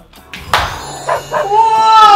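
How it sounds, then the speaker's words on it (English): A dog gives a few short, loud yips and barks close by, followed by a rising whine, with no talk over it. "That's my dog, Lino"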